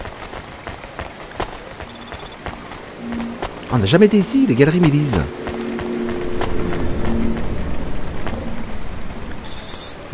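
Constant rain falling in the rainy city of the video game Cloudpunk, a steady hiss beneath someone speaking French, with brief electronic chimes and a tonal game sound partway through.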